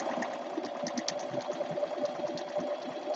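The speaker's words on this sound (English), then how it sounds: "So I'm going to put it under the sewing machine." A sewing machine stitches steadily around a quilt, its needle running in a continuous close mechanical whir with fast rhythmic ticking for the whole stretch, loud and near with no talking.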